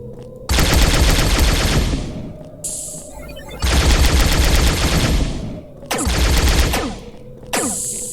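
Automatic gunfire from a 3D first-person shooter video game, loud sustained bursts of rapid shots in three long volleys with brief gaps between them, with no talking.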